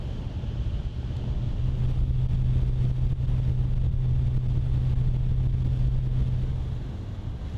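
A nature reserve's speedboat runs its regular route, its engine a steady low drone close to the microphone under heavy wind rumble, swelling slightly through the middle before easing at the end.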